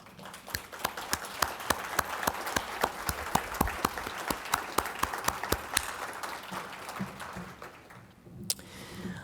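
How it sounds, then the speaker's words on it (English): Symposium audience applauding for standing directors and deputy directors at a technology anniversary event, sparse, individually distinct claps forming an uneven rhythm that grows denser mid-way and then fades to a few last claps. "can we give you a round of applause?"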